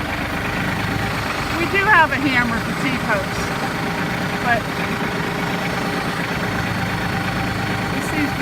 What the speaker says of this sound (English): It's a little loud. Got the tractor going